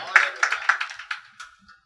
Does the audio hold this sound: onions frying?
no